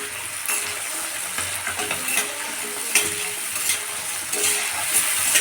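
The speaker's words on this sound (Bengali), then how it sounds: "এবার এটা একটু ভাজা হবে।" Tomato and green chili fry with potatoes and peas in a pan, a continuous close sizzle broken by repeated scraping stirs of a spatula against the metal, with no voices.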